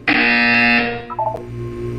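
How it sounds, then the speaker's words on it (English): A loud electronic buzzer in the video game Portal 2 blares steadily for about three quarters of a second, then cuts off into fainter tonal game sounds. "You will hear a buzzer."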